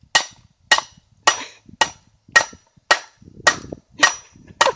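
A hammer pounds a Maxtor hard drive in nine sharp, evenly spaced blows, each a loud metallic crack with a short ringing tail, close up and with no talking.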